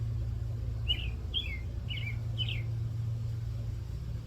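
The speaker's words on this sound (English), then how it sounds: "This little bird is running this big bird away from its tree." A small bird chirping four short, bright calls in quick succession while chasing a larger bird from its tree, heard over a steady low hum.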